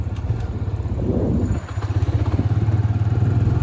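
A TVS Raider 125 motorcycle climbs a hill in 4th gear at about 2500 rpm, its engine giving a steady, close, low thrumming pulse that holds even as it pulls, with a faint rattle on top.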